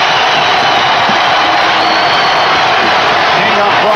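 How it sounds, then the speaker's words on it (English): A basketball arena crowd roars and cheers during Game 5 of the 1992 NBA Finals between the Chicago Bulls and Portland Trail Blazers, a loud, dense, continuous wash of noise with a commentator talking over it. "That gets the crowd going."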